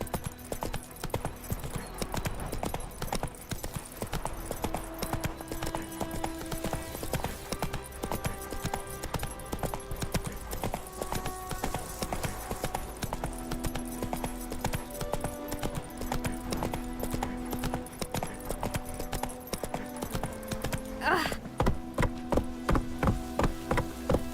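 Roach the horse gallops in The Witcher 3, a steady, close clip-clop of hooves that runs the whole time under a layer of game music.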